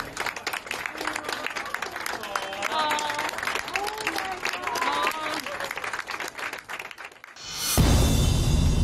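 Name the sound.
medical staff applauding a recovered mother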